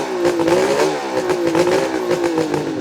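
A 1977 Suzuki GT550 three-cylinder two-stroke motorcycle engine revs up to about 3,000 rpm while warming. It gives a loud, close, raspy buzz with quick rhythmic rises and falls and no speech.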